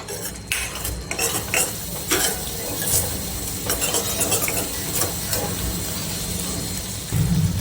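A utensil stirs and scrapes salt through tomato masala in a metal pan, with repeated clinks against the pan and a low sizzle of cooking underneath, steady and close throughout.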